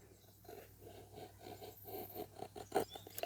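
Folding knife blade carving thin feather shavings from wood, close and quiet: a run of short scraping, rasping strokes in quick succession, alone without talk.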